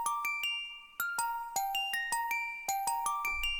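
Bright synthesized bell tones ring out in a steady, repeating pattern, each chiming note sustaining and overlapping the next, clear and alone.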